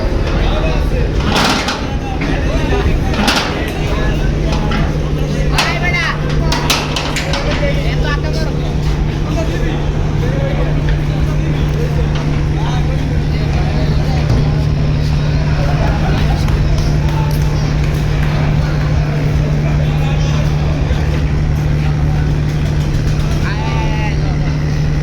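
The engine of a passenger launch on the Jhalkathi–Barishal–Dhaka route runs with a loud, steady low drone while it reverses at Barishal on Eid day. People talk over it, and there are occasional knocks and clatter.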